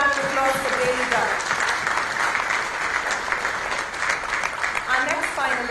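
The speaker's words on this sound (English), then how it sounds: "Ladies and gentlemen, a big round of applause for Daily Dump" Crowd applauds for a social entrepreneur finalist at an India awards evening, sustained, even clapping filling the room with a voice briefly audible over it.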